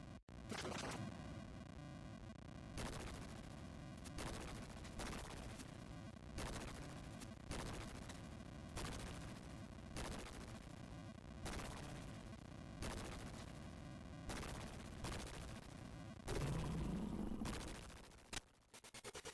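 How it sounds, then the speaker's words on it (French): Explosions from the video game The Messenger, a burst of loud, repeated booming blasts in steady rhythm over game music, with one sustained rumble near the end. "Explosion !"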